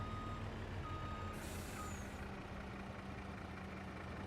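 A truck reverses in Farming Simulator 25 with a steady engine drone, a repeating reversing beep and a brief hiss of air brakes partway through, fairly quiet throughout.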